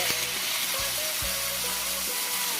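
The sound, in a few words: boiling water poured onto fried pork ribs sizzling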